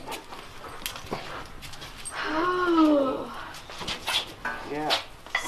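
A dog whimpers and whines in a rising, drawn-out call, close by, with people talking around it.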